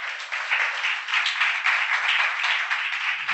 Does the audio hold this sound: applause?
yes